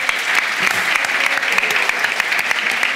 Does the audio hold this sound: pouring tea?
no